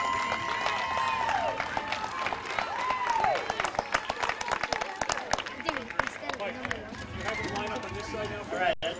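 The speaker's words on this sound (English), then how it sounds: "So one more round of applause for the Yankees" A crowd at a youth baseball game, the Yankees in the Scripps World Series AAA, claps and cheers for the team, with whistle-like swoops and lively voices mixed into the steady clatter throughout.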